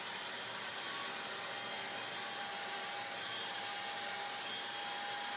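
Con Air Infiniti Pro hair dryer blowing on a beard, a steady, unbroken whoosh of airflow with a motor whine, constant and close throughout.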